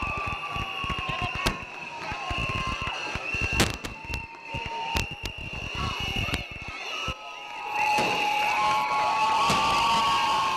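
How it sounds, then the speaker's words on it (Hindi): Teachers at an award ceremony cheer and whistle for a principal receiving an award. Scattered sharp claps sound among crowd noise and raised voices, and a sustained high whistle tone runs through most of the moment. "अवार्ड हासिल करने पर दीगर असातज़ा ने तालियां और सीटियां बजाकर खुशी का इजहार किया।"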